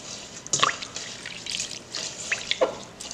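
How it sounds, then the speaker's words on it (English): Sea moss being rinsed by hand in a bowl of water: light splashes, drips and sloshing in irregular bursts, close and moderately quiet. "put some water in there, and rinse it really good throughout the water"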